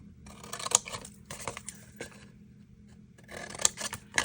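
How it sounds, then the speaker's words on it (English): Scissors snipping through paper soap packaging in a straight line, several crisp cuts and rustles in quick bursts with short pauses, close and fairly loud, no talking. "I'm going to cut over on this side, a straight line."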